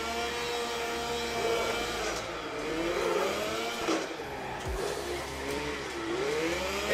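Engine of a car in the CarX Drift Racing video game revs and drifts, its pitch rising and falling in repeated sweeps over a steady mechanical drone, loud and continuous, with no talk.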